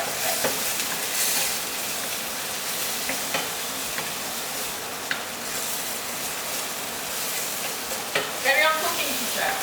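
Tomatoes and chili cook down in a pan with a constant close sizzle, broken by occasional stirring scrapes and a few spattering pops toward the end.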